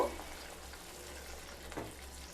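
Spices frying in a pan as water and salt go in for a fish curry, a faint steady sizzle with a soft splash and some stirring near the end.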